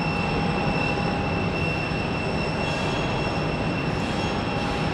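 An Endeavor CRJ 900LR regional jet arriving from JFK at Raleigh-Durham International Airport: a steady, fairly loud engine roar with thin high whine tones holding constant throughout.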